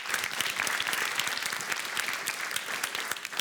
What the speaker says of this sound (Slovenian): En velik aplavz za osnovno šolo Vojnik.